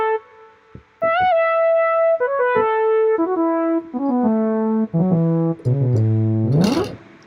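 Single-line synth lead from an external keyboard VST, a clean melodic phrase of held and stepping notes that descends gradually and ends in a rising bend or sweep, close and unaccompanied.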